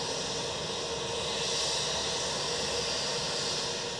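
The Democratic Republic of the Congo's presidential airplane lands at night at Cairo International Airport, its jet engines producing a continuous, loud, hissing roar throughout.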